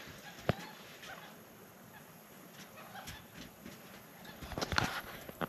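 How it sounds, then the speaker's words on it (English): Birds squawking and chattering at dusk on Lake Moultrie, South Carolina: scattered honks and calls over a quiet background, with a louder cluster of squawks near the end. "I love all the birds squawking and chattering when they're getting in bed."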